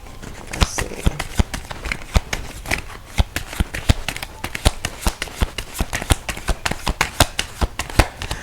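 Tarot cards being shuffled by hand, a rapid, continuous run of close crisp riffling flicks and taps lasting several seconds.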